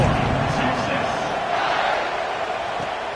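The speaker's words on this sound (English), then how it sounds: "this crowd is buzzing after that last score" Stadium crowd in a college football video game buzzing with a steady, loud roar after a score, a broad continuous wash of cheering voices throughout.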